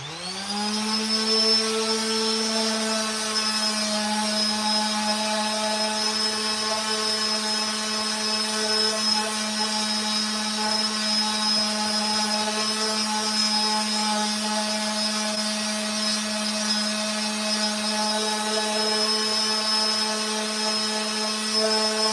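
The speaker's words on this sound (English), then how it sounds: "I'll smooth the edges out first so I can put the clamp on there." A power tool smooths the edges of a red gum table top with a steady, loud, close whine that holds an even pitch throughout, with no speech.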